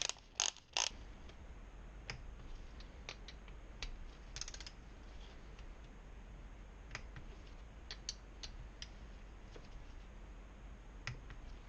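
Camshaft cap bolts being tightened on a Kawasaki Z125 engine during reassembly: faint, sparse metallic clicks and creaks from the tool, a quick cluster at the start and then scattered single clicks over a quiet, steady background.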